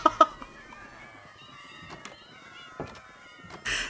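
A cat meows in the Minecraft video game, a few short cries near the start and scattered mews later, followed by a brief burst of noise at the end.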